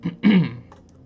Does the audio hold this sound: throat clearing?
yes